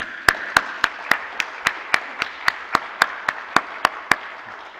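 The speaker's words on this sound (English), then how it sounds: "I do think that a nice round hand of applause will be in order" Rhythmic clapping at a wireless technology summit in Aarhus, sharp regular claps in an even beat over a busy background of hands, loud and close throughout.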